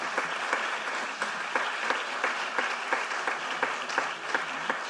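Audience at the Tutela Patrimonio Veneto award ceremony applauds the competition commissioners as they stand, a steady moderate clapping from a mid-sized room with a few sharper hand claps poking through.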